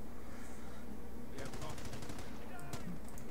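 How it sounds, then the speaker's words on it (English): Rapid machine gun bursts from Violet's MG in a wrecked-train battle video game, a run of quick evenly spaced shots followed by a sharper crack, moderately loud over a steady low in-game rumble. "Violet's MG finally being useful"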